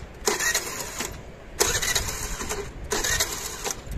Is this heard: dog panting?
no